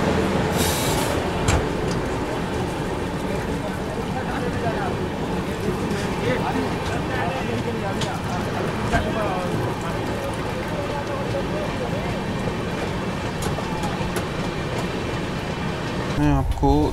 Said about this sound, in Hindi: ये अभी क्रॉस करी प्रयागराज उधमपुर एक्सप्रेस, क्या स्किप मार के गई है